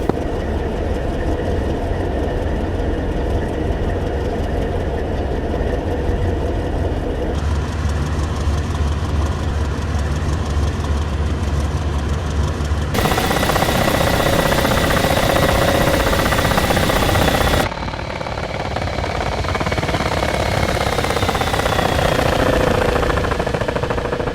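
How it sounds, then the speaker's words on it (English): Helicopter engines in the DCS World combat flight simulator give a loud, continuous mechanical drone with a steady whine and rattle, unbroken throughout and with no voices. "Helicopter flight is moving out now."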